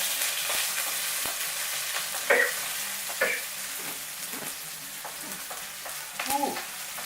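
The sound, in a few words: stir-frying ginger and chive for fried rice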